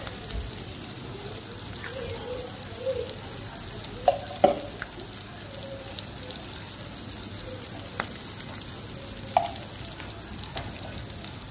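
Fish fries with salt, turmeric and chili powder in a pan, giving a constant soft sizzle. Occasional close utensil taps and clinks rise above it.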